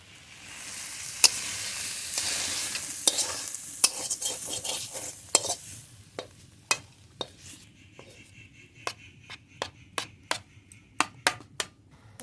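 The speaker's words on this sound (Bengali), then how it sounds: "নেড়ে নেড়ে খুব ভালো করে রান্না করে নিয়েছি। বেগুন দিয়ে ছোলার শাক রান্না হয়ে গেছে" Chickpea greens cooked with brinjal are stirred in a pan. A soft sizzle sits under scraping strokes that later turn into a run of sharp, evenly spaced spoon taps on the pan rim, close and alone.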